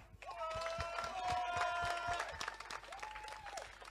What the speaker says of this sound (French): Je vais vous demander de vous applaudir.